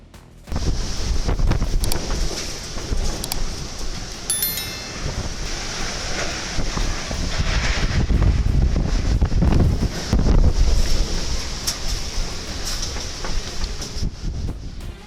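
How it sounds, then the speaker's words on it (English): Strong, sudden wind in Balakovo, Russia, powerful enough to rip a roof off, roars and buffets continuously against the microphone, rumbling loudly with gusting surges and no speech. "A sudden strong wind ripped the roof off like a box"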